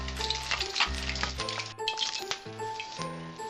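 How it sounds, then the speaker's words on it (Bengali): Pabda fish fry in hot oil in a pan with a steady crackling sizzle, heard close alongside clinking of utensils and scraping as the fish is lifted out. "মাছটা ভাজা হয়েছে, এবার আমি তুলে নিচ্ছি।"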